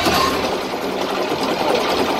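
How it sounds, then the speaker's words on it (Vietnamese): A Yanmar diesel engine aboard a 15-metre boat runs with a dense, rough, continuous clatter, loud and close, with no pauses. "Bây giờ thì mình sẽ đi xuống dưới tàu để cho anh đề thử nghe thử cái động cơ nha các bạn"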